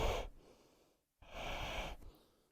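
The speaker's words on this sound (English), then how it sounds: "Last breath. And exhale," A deep, breathy exhale during a yoga session, followed after a brief pause by another long, steady breath, close and clear with no talking.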